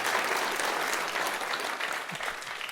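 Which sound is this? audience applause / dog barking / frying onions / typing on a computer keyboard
audience applause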